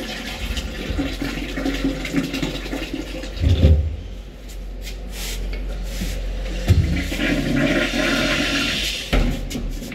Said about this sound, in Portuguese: Sempre eu coloco um pouco por vez e aí solta a descarga para ir bem aos poucos.